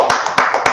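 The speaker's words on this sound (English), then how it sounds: "Let's clap it up for that." An audience in a class claps, giving quick, bright, repeated slaps in a short, close burst.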